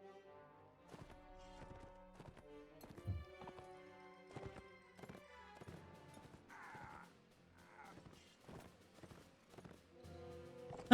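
A horse gallops in a video game, with rapid clip-clop hoofbeats in uneven bursts and a couple of short whinnies partway through, all fairly quiet.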